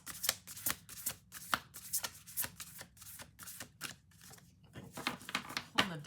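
A deck of oversized affirmation cards is shuffled up close, with quick papery riffles and flicks in bursts, then a short pause before more shuffling.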